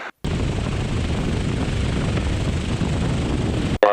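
Light aircraft idling through a power-off stall, a steady broadband engine and wind rush holding at an even, loud level for several seconds, with brief cut-outs at the start and end.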